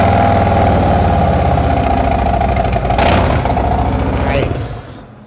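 A Harley-Davidson 107 engine idles through 4.5-inch TAB Performance mufflers, a steady deep loping rumble held close and loud for several seconds before it fades, with a brief burst of other noise midway and someone speaking over it.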